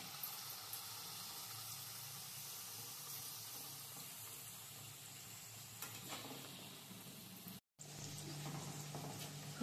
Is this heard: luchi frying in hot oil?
yes